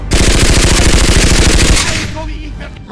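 A machine gun firefight, loud rapid bursts of automatic gunfire in a fast steady rhythm, close and dense, tapering into a rumbling tail near the end.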